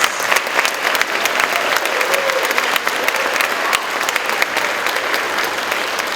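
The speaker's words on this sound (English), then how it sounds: "Let's give these students a big round of applause" Audience applause for orchestra students at a 5th to 8th grade school orchestra concert, loud, dense, continuous clapping from a full room that holds steady for several seconds.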